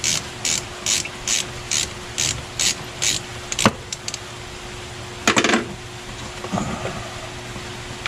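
A ratchet wrench clicks in quick rhythmic bursts, about eight even strokes, while a fastener is loosened during a VVT solenoid replacement on a 2011 Toyota Tacoma, followed by a few metallic clanks and rattles, close and clear.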